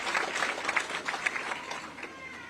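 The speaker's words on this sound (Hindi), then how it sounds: "इसलिए आप जोरदार तालियों से उनका स्वागत करें।" A crowd at the opening of a football tournament in Subhashgram applauds, a dense, moderately distant patter of many hands with a few sharper claps, fading slightly toward the end.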